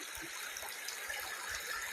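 Steady rushing water of a forest waterfall, a constant hiss with faint low burbling, moderately distant and uninterrupted, with no voices.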